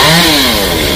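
A small chainsaw cutting branches of a 200-year-old Sộp tree, loud and close, its engine whining steadily with a slight drop in pitch as it bites into the wood, with no talking.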